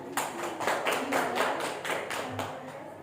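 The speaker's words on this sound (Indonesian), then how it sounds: "Tepuk tangan untuk kalian." After a geography presentation, a classroom of students gives applause: a thin, small group of distinct claps in a loose, fairly quick rhythm, close and moderately loud, with no talk over it.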